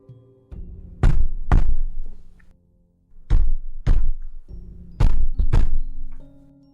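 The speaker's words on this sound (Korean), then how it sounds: "쾅쾅 하며 문의 전력으로 부딪힌 소리를 내기 시작했다" Several heavy, forceful thuds hit a door in pairs, loud and close, with short pauses between bursts.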